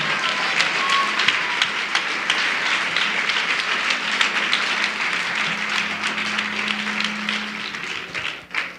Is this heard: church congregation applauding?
yes